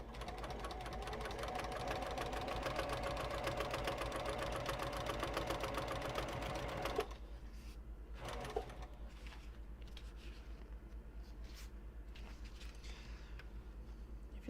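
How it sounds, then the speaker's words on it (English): Sewing machine stitching waterproof canvas for car trash cans aboard a bus, running steadily and loud for about seven seconds, then stopping, leaving quieter low hum and faint handling noises. "I feel like I'm probably the only one actually sewing tonight."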